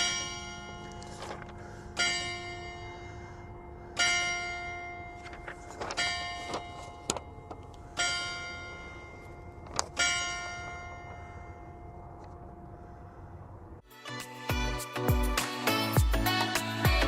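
Church-style bells ringing out the hour in a town square, strokes spaced about two seconds apart with a long ringing decay, heard alone until a louder, busier passage of bell tones takes over near the end.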